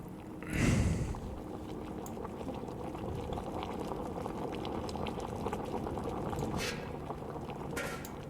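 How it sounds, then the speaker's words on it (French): Liquid bubbles at a steady rolling boil in the video game Amnesia Rebirth, with a brief louder pouring splash near the start, then continuous soft gurgling at moderate level. "il faut que je fasse bouillir"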